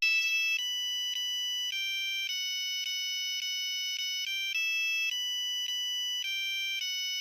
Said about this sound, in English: You'll also unlock new cases, wallpapers, and ringtones for your phone